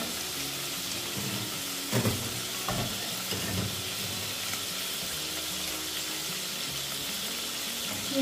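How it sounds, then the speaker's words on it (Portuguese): Sun-dried meat frying in a pan gives a steady, close sizzle with a few louder crackles and stirring clatters around the two-to-four second mark, and no one speaks. "Coloquei uma carninha de sol pra ir fritando aqui já também pra poder fazer a abóbora."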